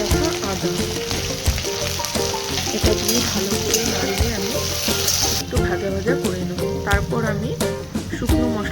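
Loud, steady sizzling fills the air as ingredients for a kulshe fish curry with helencha greens fry in a pan, with scraping stirs and bubbling oil crackling close up throughout.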